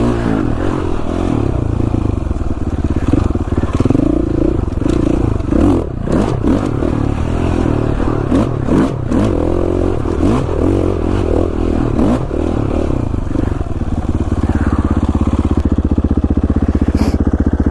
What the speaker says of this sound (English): Riding the mighty 2017 KTM 450 XCF.